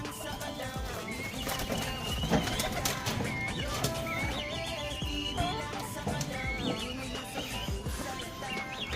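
Live birds calling and cooing at a cockfighting derby in Vigan, Philippines, amid a dense, busy background of chirps and noise, continuous throughout, moderately loud.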